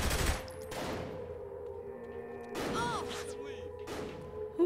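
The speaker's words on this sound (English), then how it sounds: "Who's just shooting me with a shotgun?" Shotgun fire in Saints Row 3 Remastered: four or so heavy blasts spaced about a second apart, each with a booming report and ringing tail, over a low game-ambience hum.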